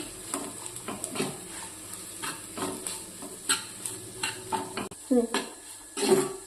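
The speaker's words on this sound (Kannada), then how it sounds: "ಶೇಂಗಾ, ಜೀರಿಗೆ, ಕೊತ್ತಂಬರಿ, ಹಸೆ ಮೆಣಸಿನ್ಕಾಯಿ ಇದನ್ನೆಲ್ಲ ಇದ್ರಾಗ ಹಾಕಿ ಒಂದು 2 ನಿಮಿಷ ಹುರ್ಕೊಂಡು" Peanuts, cumin, coriander and green chillies being roasted in a pan for a radish stir-fry, with a spoon scraping and stirring in irregular strokes over a soft dry sizzle, some clinks of metal on the pan.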